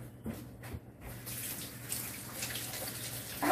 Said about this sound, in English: Let me go rinse my hands off.